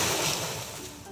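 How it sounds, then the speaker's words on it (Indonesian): Ocean waves wash continuously onto a beach in a brief, close, steady roar of surf with no voices. "Itu adalah suara ombak."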